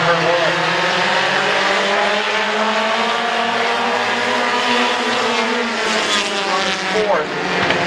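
Race cars roaring around the Midvale Speedway oval, several engines whining and rising in pitch as they pass, loud and continuous beneath an announcer's commentary.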